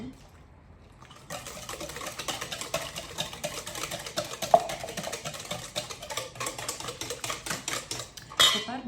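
Sweet bun dough is whisked briskly in a bowl, with fast, rhythmic metal-on-bowl clatter that begins after a quiet second and keeps going steadily, and warm milk is mixed in.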